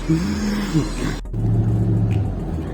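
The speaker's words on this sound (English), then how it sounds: "Los Angeles traffic." Road traffic in Los Angeles, with a car engine humming and shifting pitch, a sudden break, then a steady droning motor as vehicles move nearby, with no talking.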